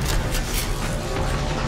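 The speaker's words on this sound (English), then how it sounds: "He threw a grenade!" A grenade blast in the Halo: The Master Chief Collection Spartan Ops mode, heard as a dense, loud, sustained booming roar of gunfire and explosion noise filling the whole moment.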